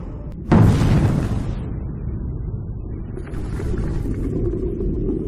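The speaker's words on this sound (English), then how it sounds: "The field right behind that slab, we found out, was a propane tank storage field, so those started to explode." Propane tanks in a storage field explode during the Paradise, California wildfire: one loud, close boom bursts out and trails off into a long rumble, with steady roaring fire noise continuing after.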